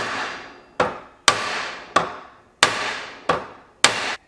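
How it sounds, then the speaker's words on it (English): Steel hammer striking metal on an anvil while flattening a decoy weight for a Texas rig, seven sharp ringing blows in a steady, evenly spaced rhythm, each one loud and close with a short decaying ring. "take my hammer, and then I'm just going to pound this down a couple times"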